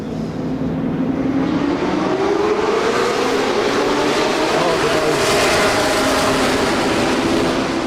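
Historic 1960s race cars roar down a pit straight at a night endurance race in Dubai, a loud continuous engine wail that rises in pitch as they accelerate, with a commentator's voice running over it.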